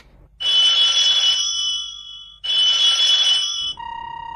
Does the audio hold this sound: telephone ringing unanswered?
yes